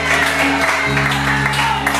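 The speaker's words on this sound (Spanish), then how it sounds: "Denle un aplauso al Cordero de Dios." Audience applause for the Lamb of God during an evangelist's sermon in a church, a dense steady wash of clapping filling the room under a held musical tone, with no voice on top.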